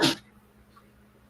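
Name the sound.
sneeze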